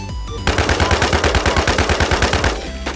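Rapid automatic gunfire in the video game Infestation, a loud sustained burst of evenly spaced shots lasting about two seconds, beginning and ending abruptly.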